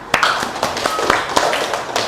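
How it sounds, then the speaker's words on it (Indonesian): A class of students claps in a school classroom, giving about eight distinct, fairly evenly spaced claps over a brief moment, with light murmuring underneath. "Tepuk tangan buat kita"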